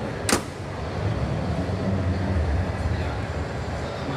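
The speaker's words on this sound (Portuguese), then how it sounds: "Turbo diesel. Turbininha aberta pra espirrar, ó." A turbo diesel engine with its turbo intake left open runs steadily at close range, a rough continuous rumble with a brief sharp hiss near the start.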